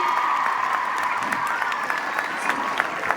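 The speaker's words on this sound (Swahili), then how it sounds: "Tumpigie makofi mazuri anapoketi." An audience applauds at a parenting talk, with steady, sustained clapping from a crowd filling the whole moment at an even loudness.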